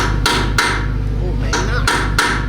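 Five sharp, loud hammer blows, spaced irregularly, strike a seized hitch pin on a hay baler to drive it out, with no talk over them.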